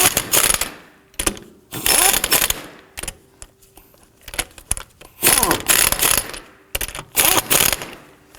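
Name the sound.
tightening lug nuts on a Subaru Legacy wheel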